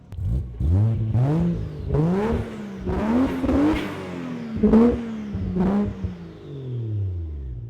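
A Toyota 1JZ engine swapped into a Nissan 240SX S13 coupe revs again and again in close, loud blips, each climbing and falling away in a rough, raspy tone.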